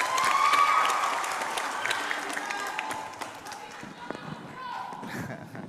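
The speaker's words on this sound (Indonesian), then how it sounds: "Tepuk tangan Bapak Ibu sekalian." Audience applause at a provincial final of a school quiz competition, a broad wash of clapping from a crowd in a hall, moderately loud and steady, with a voice speaking over it.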